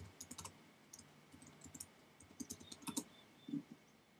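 Quiet clicking of keystrokes on a computer keyboard during a Minecraft ComputerCraft session, short irregular bursts of taps with a few isolated clicks, close and soft, with no talk.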